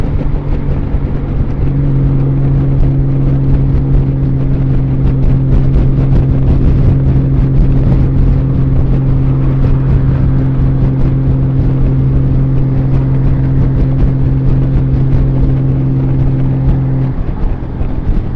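A Honda Valkyrie motorcycle engine drones while riding, with a steady low hum and wind roar sustained at a constant loud level for the whole stretch and no talking.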